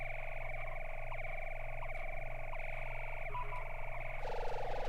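A buzzy, distorted electronic tone pulses steadily, shifting to a brighter warbling zap near the end, like a synthesized laser effect.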